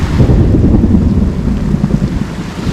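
Heavy rain and gusting wind during a storm under a small palapa at a Cuban beach resort, a loud, dense, continuous roar with buffeting wind noise on the microphone and no talking.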